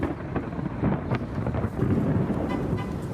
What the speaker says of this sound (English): Lightning flashed across the sky as sudden downpour soaked spots in Southern California.